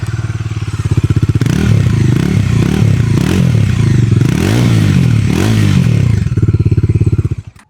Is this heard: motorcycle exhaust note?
yes